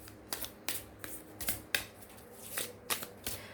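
A tarot deck shuffled by hand in a quiet room, with about nine short riffling bursts at a steady, slightly uneven rhythm, close and fairly soft.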